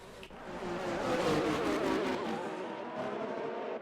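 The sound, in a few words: race car spinning out, from a racing video game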